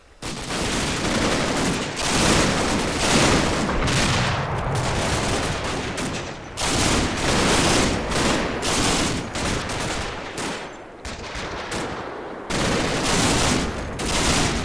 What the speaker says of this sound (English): As you can hear, I've got my machine gun still there.